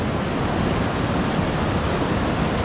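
Deep water of the Yambung River in Arunachal Pradesh rushes in a steady, dense broadband roar, loud and continuous with no pauses and no voices over it.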